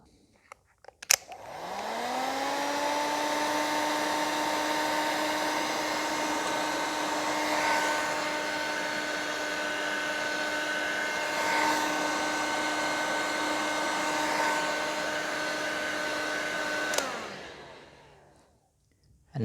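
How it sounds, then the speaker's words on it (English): A heat gun switches on with a click and blows a steady, loud whirring hum for about fifteen seconds while shrinking white heat shrink tubing over wires, then winds down and stops. "You can put that on and heat shrink that down."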